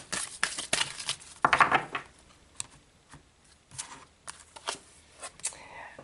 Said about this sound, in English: let's pull an outcome card for you guys.